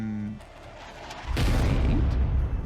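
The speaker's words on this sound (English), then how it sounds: "And he fires his cannon yet again." A cannon fires in a chess video game, a deep booming blast that bursts in partway through and rumbles on loudly to the end, after a quieter stretch of low background sound.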